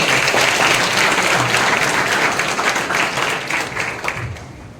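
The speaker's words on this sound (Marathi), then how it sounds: "त्या आयोजन कमिटीसाठी मित्रांनो एकदा जोरदार टाळ्या" An audience at a competitive-exam event breaks into loud, dense applause for the organizing committee, many hands clapping together before the sound thins and fades toward the end.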